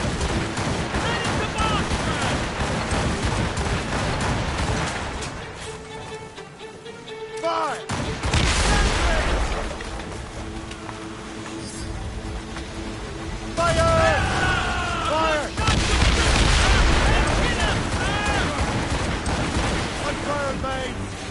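Dense gunfire bursts crackle amid a chaotic scene with shouted commands, wind buffeting and broadband roar, the shooting rising in waves over about twenty seconds with voices calling out throughout.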